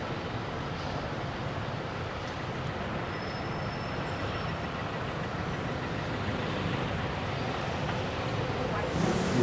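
A busy Bangkok street in a traffic jam, with a dense steady rumble of engines and road noise, occasional high squeals, and a general roar that builds slightly toward the end.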